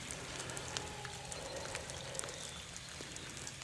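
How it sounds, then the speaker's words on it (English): Rain mixed with sleet falls outdoors on public land, a steady soft hiss with scattered light ticks of drops and pellets, with no one speaking. "Sorry about the rain, guys. It's starting to like sleet and rain."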